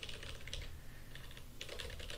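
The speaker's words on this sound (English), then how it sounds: "I'm just typing the word class." Rapid typing on a computer keyboard, with quick clusters of light key clicks and short pauses, sounding close and fairly soft.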